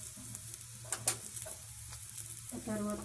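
Seasonings with turmeric sizzling in a pan for Uggani, puffed rice upma, a steady fry with occasional stirring scrapes, and a voice speaking briefly over it.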